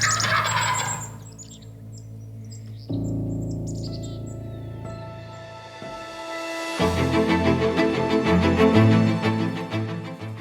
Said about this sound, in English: seeing those birds work and definitely seeing them strut and gobble